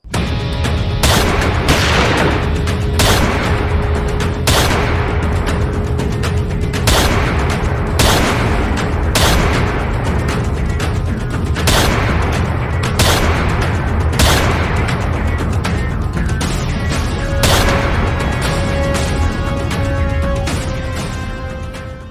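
Dense staged gunfire in a Sindhi TV drama, a loud, continuous barrage of overlapping shots and booming bursts that runs unbroken throughout, with no voices rising above it.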